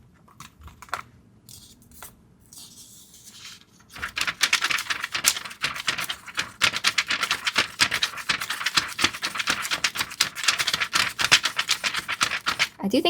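Dense, crisp crackling of Hobonichi planner paper being crinkled up close, starting quietly and then running continuously with rapid irregular rustles.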